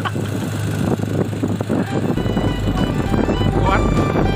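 A fuel-efficient outboard motor on a small fishing boat runs steadily, with a low droning hum that deepens and grows louder partway through, mixed with wind buffeting and some background speech.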